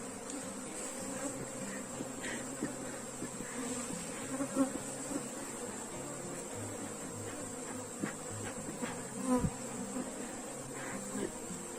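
A dense swarm of honeybees buzzes around hive boxes in a steady, continuous drone, with a few close passes rising briefly above the hum, and no voices.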